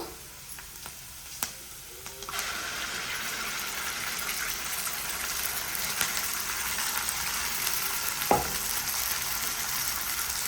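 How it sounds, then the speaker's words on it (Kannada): Ground masala paste frying in a pan for hotel-style spicy egg curry, a steady broadband sizzle that jumps louder after a drop near two seconds and holds continuously, with a brief scrape or clink late on. "ಹಾಕೊಂಡು ಈ ಥರ ಚೆನ್ನಾಗಿ ಫ್ರೈ ಮಾಡ್ಕೋಬೇಕು"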